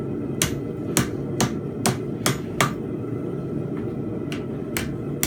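Hammer striking steel fence pegs during forging: about eight sharp, ringing metallic blows at an uneven pace over a low steady rumble, close and fairly loud.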